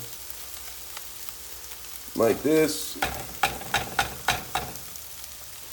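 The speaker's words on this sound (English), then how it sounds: "It's frying, it's frying, it's frying." Eggs sizzle in a hot pan while a utensil stirs and scrapes in several quick strokes, with a brief voice at the start.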